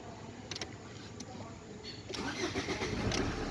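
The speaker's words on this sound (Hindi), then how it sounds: "अब गाड़ी भी स्टार्ट करके आपको दिखाते हैं। तो सेल्फ मारते हैं" Tata Vista Quadrajet car with a wiring fault cranked on its self-starter, a whirring crank followed by the engine catching and settling into a louder rumbling run, close by.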